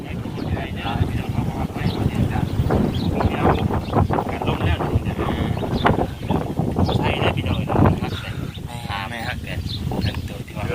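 Steady wind blowing outdoors on a cool early morning, a constant broadband rush with gusting swells and buffeting against the microphone, continuing throughout with a voice talking over it.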